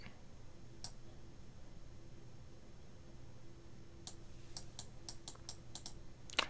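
Mouse clicks in a game engine menu on a computer, a single click early on and then a quick run of sharp clicks near the end over a faint steady hum.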